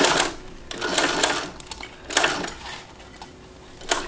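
A sewing machine stitches fabric in short runs, a close rapid mechanical whir that starts, pauses and restarts several times with no talking over it.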